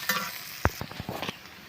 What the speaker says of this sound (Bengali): এটা ভাজা হয়ে গেলে আমি পেঁয়াজ কুচিগুলো ভেজে নেব।